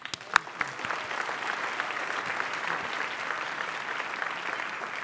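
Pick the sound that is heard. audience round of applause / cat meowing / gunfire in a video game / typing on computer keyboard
audience round of applause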